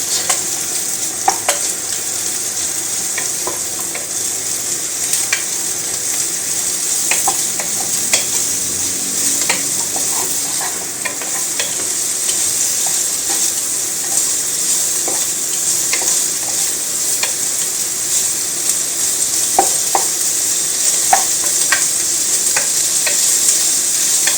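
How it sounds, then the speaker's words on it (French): Small chunks of chorizo fry in a pan and get stirred, giving a steady close sizzle broken by scattered scrapes and clicks from the spoon for over twenty seconds, with no voices. "On va y mettre nos petits chorizo coupés en petits morceaux. Et on va faire revenir quelques minutes."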